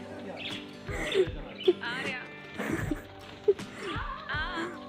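Pet parrots give several sharp squawks and chirps while being moved into a new house, the calls loud and close in scattered bursts, with people talking and handling noise underneath.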